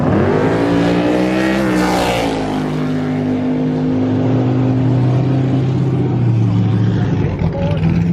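Boosted race car with a roaring engine, loud and sustained, pitch climbing then settling into a steady high drone as it pulls away, with commentary voices talking over it.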